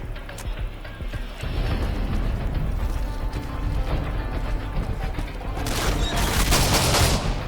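Shotgun fire in Call of Duty Modern Warfare 2 on the No Russian mission, loud rapid blasts and crashing over constant gunfire and din, rising to a dense roar near the end.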